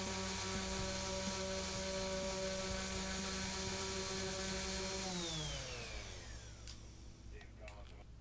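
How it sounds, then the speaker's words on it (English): A random orbit sander fitted with 80-grit discs works on a Warrior guitar headstock: a loud, steady tonal motor whine spins down after about five seconds, leaving faint clicks and handling noise. "I'll try my random orbit sander with some 80 grit sandpaper discs."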